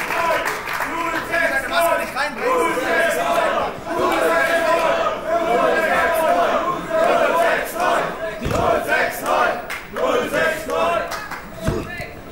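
A wrestling crowd in Bonn loudly chants 069, Frankfurt's area code, in rhythmic unison with scattered claps and shouts. The massed voices stay close and dense throughout, with brief dips between chants.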